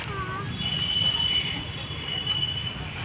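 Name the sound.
train approaching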